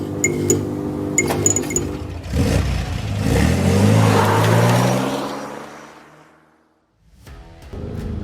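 A Range Rover Sport SV One Edition, a 2024 model, revs loudly: clicking and clatter, then a swelling engine roar that builds, falls away to near silence, and restarts close by.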